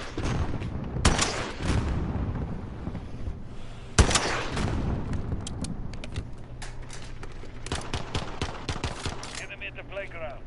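Sustained automatic fire from an enemy sentry gun in a console shooter game, a dense rattle of shots with sharp loud cracks among continuous battle noise and engine-like rumble.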